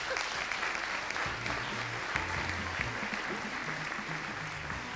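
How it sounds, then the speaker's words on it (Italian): Studio audience applause on a live radio show, a steady wash of clapping that holds at an even level throughout, with faint voices underneath. "Ragazzi, un applauso."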